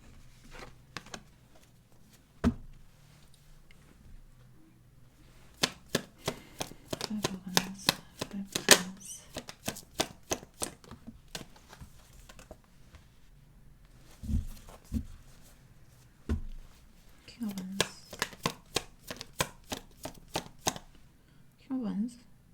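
Tarot cards being shuffled and drawn, a run of quick crisp riffling snaps and soft flicks in bursts, with brief pauses and light handling noise between; a voice speaks at times.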